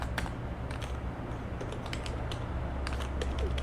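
Typing on a computer keyboard, a steady run of soft, close key clicks with irregular rhythm over a low background hum, no voices.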